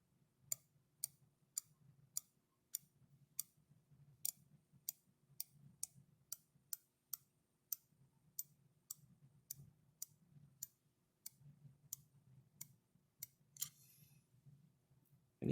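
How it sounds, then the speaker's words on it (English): A click rule being pushed out one sixteenth-inch notch at a time gives off sharp, evenly spaced metallic clicks, about twenty in a row, close and quiet against a faint low hum. "a click is emitted every time the tool is pushed in or out 1/16 of an inch"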